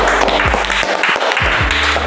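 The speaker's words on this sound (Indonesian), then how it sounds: "Tepuk tangan dong." Audience applause and clapping fill the whole two seconds as a steady, dense patter, with low tonal sounds sliding underneath.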